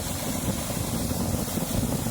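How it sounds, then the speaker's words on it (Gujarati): A steady, low engine rumble drones continuously with a rough, noisy texture, an old Eicher 485 tractor running close by during sesame threshing. "આઈસરનું ટ્રેક્ટર છે, જૂનું મોડલ 485 આઈસર"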